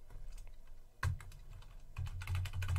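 Rapid typing on a computer keyboard while entering Linux commands, with steady close clicking that thins briefly midway and then picks up denser and louder keystrokes.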